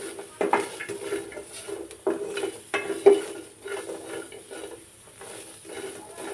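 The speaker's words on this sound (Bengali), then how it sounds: "এভাবে মরিচ পেঁয়াজগুলোই ভাজি করে আপনারা ভর্তাটা করে নেবেন" Chillies and onions frying in a pan for a mashed bharta, with a spatula stirring and scraping against the metal in irregular clattering strokes over a soft sizzle, close up, with no talking.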